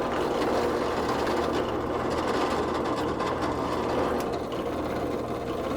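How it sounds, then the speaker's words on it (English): A drill press bores holes in a wooden hinge, a steady dense whirring grind that runs unbroken for several seconds at moderate level, with no talk. "using the drill press. So let's go ahead and drill these out."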